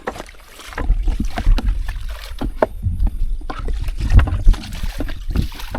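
A motorboat engine runs steadily in a rainy outdoor scene. Its low rumble mixes with water splashing and wind noise, along with intermittent knocks and clatter close by.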